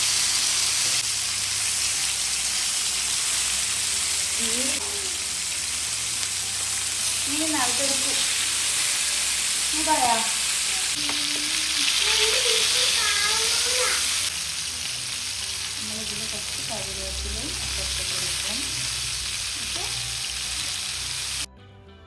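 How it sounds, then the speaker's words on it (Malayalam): Shallots and onion sauté in hot coconut oil with a loud, continuous sizzle and hiss, and faint voice-like sounds drift under the frying. "വെളിച്ചെണ്ണ ചൂടായപ്പോൾ അത് ചെറിയുള്ളി ഇട്ട് കൊടുത്തിട്ടുണ്ട്, കുറച്ച് അധികം തന്നെ"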